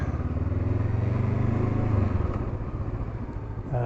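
A motorcycle, likely a Honda Goldwing, rumbles at low speed with a steady, slightly surging engine note throughout, close and continuous, with no talk.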